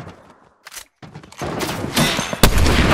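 Gunfire from a sniper rifle in the Fortnite video game: a few sharp bursts early, then a dense stretch of loud, overlapping shots and crackling blasts with one especially strong crack near the end.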